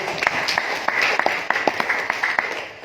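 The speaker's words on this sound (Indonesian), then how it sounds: "Tepuk tangan untuk beliau" A small audience at a family gathering claps in a loose rhythm of distinct, separate claps over a steady murmur of room noise.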